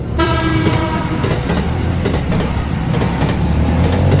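Passenger train bound for Bicol from Manila rolling past close by, a loud continuous rumble and clatter of wheels with a horn tone at the start, filling the whole stretch.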